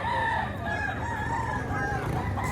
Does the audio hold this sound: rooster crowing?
yes